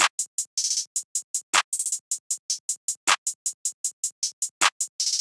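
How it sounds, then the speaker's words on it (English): A GJX Section 8 clap sample plays alone in a programmed trap pattern, with sharp bright claps repeating at a steady quick pace and a few longer, fuller hits mixed in, loud and up front. "I haven't changed anything for this clap pattern and it sounds like this."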